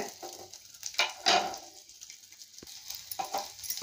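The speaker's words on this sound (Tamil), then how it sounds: "சின்ன வெங்காயம் ஒரு 20 வெங்காயம் போட்டு நல்லா வணக்கி எடுத்து வச்சுக்கலாங்க" Small onions sauté in oil in a pan, a soft intermittent sizzle with a few stirring scrapes and clinks, close by and fairly quiet.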